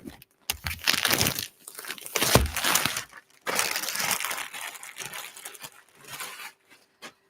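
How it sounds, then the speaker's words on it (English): Plastic wrapping crackles and tears as it is pulled off by hand, in several loud, close bursts of crinkling separated by brief pauses. "So let's rip off the plastic."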